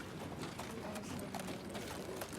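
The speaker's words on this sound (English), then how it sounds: "Oh, that's a Frisian." A Friesian horse's hooves clip-clopping at an Indiana horse auction, a busy rhythmic clatter of steps mixed with crowd noise and a voice speaking nearby.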